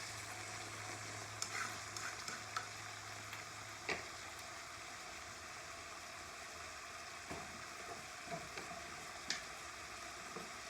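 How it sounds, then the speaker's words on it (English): Pot roast searing in a hot pan, a steady close sizzle and crackle running throughout, broken by occasional clinks and scrapes as the meat is moved. "our pot roast is cooking up real good"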